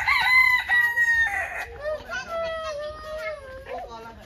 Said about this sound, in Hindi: और मुर्गे हैं यहाँ पे